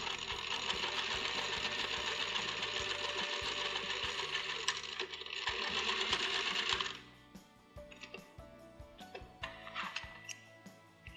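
A sewing machine stitches patterned fabric for a duck-bill face mask, a steady close whirring run for about seven seconds, then short stop-start bursts of stitching with ticks and clicks.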